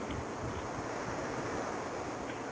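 Ocean waves wash steadily in the background, a broad continuous rush of surf mixed with some wind noise, with no voices.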